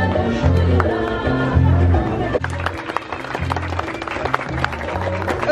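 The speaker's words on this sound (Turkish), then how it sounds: "arkadaşımızı içeri davet ederken kuvvetli alkışlarla karşılayalım" Strong applause greets a guest arriving at a wedding, dense clapping building over steady music and crowd murmur, with voices mixed in.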